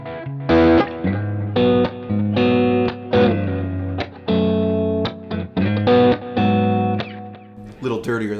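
Electric guitar through a Kemper with a Mouse overdrive, gritty tone, playing a series of strummed chords and short riffs, loud and close with brief pauses between phrases.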